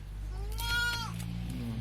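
A large adult male billy goat being fed on a farm bleats once in a long, wavering, nasal cry, close and loud over a steady low background hum.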